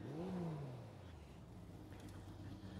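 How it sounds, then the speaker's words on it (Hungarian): A Porsche rally car on a historic rally stage at Mecsek Rallye, Hungary, sweeps past with a rising then falling engine note, loud at first and fading into the distance. "Na de közben érkezett egy Porsche, és ennek is gyönyörűség hallgatni a motorját."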